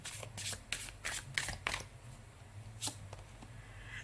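Tarot cards are shuffled in quick riffling bursts, several close crisp rustles in the first two seconds, then a brief pause and another riffle, with no talk.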